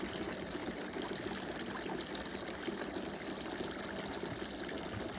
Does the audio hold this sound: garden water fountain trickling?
yes